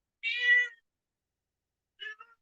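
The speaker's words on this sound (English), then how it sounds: "listen at my cat." A house cat meows twice: a clear, drawn-out meow followed by a shorter, softer one after a pause, close to the microphone in an otherwise quiet room.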